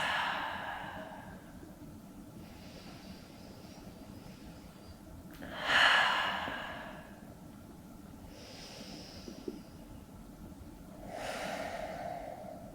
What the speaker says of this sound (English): A few more big ol' kind of breaths.